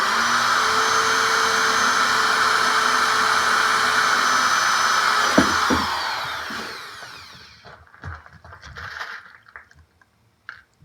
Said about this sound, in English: Putting the frame on, just gonna put probably 1/8 rivets in.